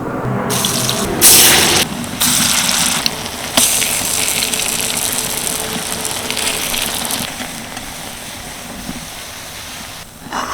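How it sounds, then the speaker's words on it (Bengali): Cabbage batter fritters fry in a pan with a loud, close, hissing sizzle that surges in bursts and then settles into a continuous bubbling rush, with no talking. "বাকি বেটারটাও আমি একইভাবে ভেজে নেব"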